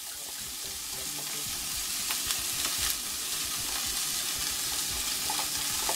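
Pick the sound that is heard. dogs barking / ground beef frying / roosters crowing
ground beef frying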